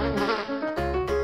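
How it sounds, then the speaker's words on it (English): A housefly drones with a buzzing, harmonic whine that cuts out briefly twice, close and clear with no voices. "Fly."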